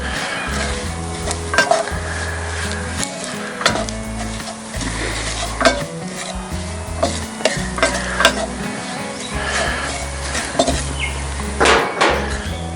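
Flour cooking in oil inside a Dutch oven, with stirring scrapes, utensil knocks against the pot and a steady sizzle throughout, close and fairly loud with repeated irregular clanks.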